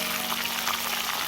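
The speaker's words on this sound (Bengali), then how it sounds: "এটা জাফরানি এখানে রোস্ট হচ্ছে" Saffron dish roasting and frying in a pan for iftar, a dense continuous sizzle close up with a steady low hum beneath.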